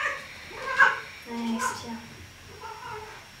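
A pet cat meows several times in short, rising cries during a yoga session, while someone speaks softly in French over and between the calls.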